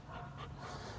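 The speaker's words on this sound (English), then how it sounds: "I'm out here with the dogs." A dog pants steadily close by, with quick rhythmic breaths over a low constant outdoor rumble, moderately quiet throughout.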